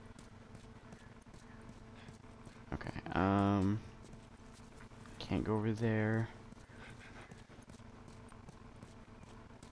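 Horse hooves clip-clopping in the game The Last Of Us Remastered, two brief clusters of hoofbeats with whinny-like tones, separated by a pause, under a player's quiet commentary.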